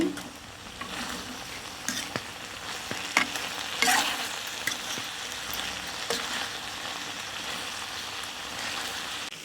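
Ivy gourd (tindora) fry being stirred in a pan, a steady close sizzle with occasional scraping clicks of the spatula and a brief louder crackle, with no talk.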